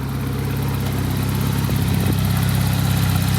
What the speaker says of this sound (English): Okay, YUGO cold start.